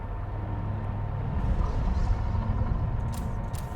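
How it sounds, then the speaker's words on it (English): Deep, rumbling growl in an underwater Subnautica 2 game scene rolls on as continuous low ambience, steady and moderately loud throughout. "I don't like that growling."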